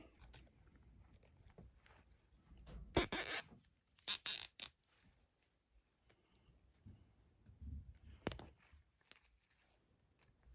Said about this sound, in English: And then you'll just wrap it up that elbow and zip tie it off.